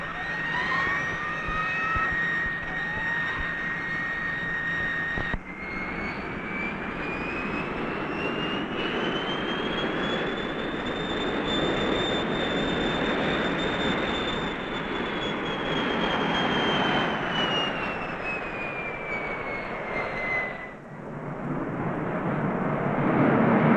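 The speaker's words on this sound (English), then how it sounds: "And then we're going to fly by with the afterburner on." A jet aircraft flies past with its afterburner lit, a loud sustained roar with a rising and falling whine as it approaches, passes close and recedes, then a fresh surge of noise at the end.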